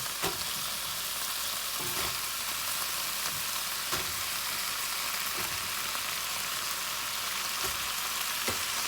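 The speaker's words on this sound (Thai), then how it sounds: "พอไก่ซุกนะคะ เราก็ใส่มะเขือลงไปเลยค่ะ" Steady, dense sizzling of eggplant frying with chicken in a hot pan, with periodic scraping clicks as the food is stirred, close and continuous.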